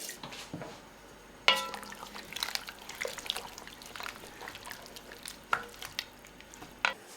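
Coconut milk and vegetable stock go into a soup pot with potato, giving soft liquid pouring, stirring and occasional clinks, fairly quiet and close with no speech.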